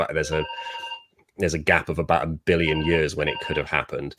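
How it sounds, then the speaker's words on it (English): A telephone rings with steady electronic tones running beneath someone talking, and the tone returns partway through his continuous speech. "that's the phone."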